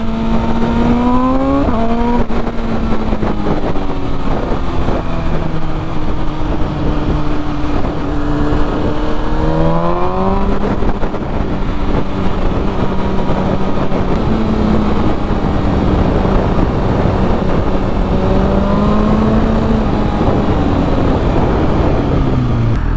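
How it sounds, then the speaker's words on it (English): A 2021 Harley-Davidson Street Glide CVO motorcycle rumbles loud and close while riding through traffic. The engine tone rises and falls steadily with throttle changes and shifts. "Thing sounds like a beast."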